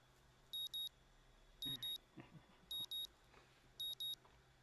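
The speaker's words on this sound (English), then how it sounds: "The morning alarm sounds, and I roll over, switching it off." A morning alarm clock gives four evenly spaced pairs of sharp, high electronic beeps, soft and a little distant, with faint rustling between the pairs.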